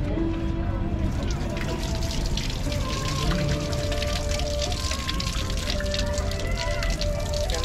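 Water runs steadily from a public tap at a holy site while hands are washed beneath it, a continuous splashing wash that fills the whole stretch with voices nearby.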